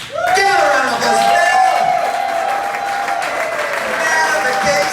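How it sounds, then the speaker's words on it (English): Audience applause and cheering at a live comedy show with two special guests, a loud steady crowd roar with a voice speaking over it throughout. "Give her a round of applause."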